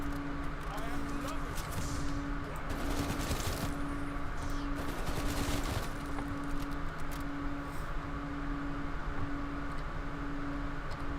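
Bursts of AK rifle gunfire in Call of Duty Cold War, steady and dense over a constant game hum and vehicle-like drone, with a voice talking over it at times.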